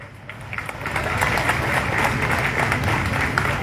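A crowd at a Bajrang Dal Shaurya Jagaran Yatra rally claps together, a steady wash of many hands building in the first half second and holding at an even, moderate level for a few seconds.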